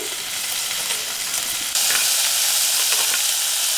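Peas and chopped tomato fry in hot oil, a loud, steady sizzling hiss that jumps louder partway through as more goes in, then keeps crackling close by with no talk.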